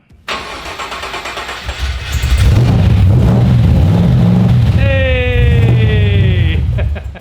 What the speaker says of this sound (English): we're going to see if we can start it and see what happens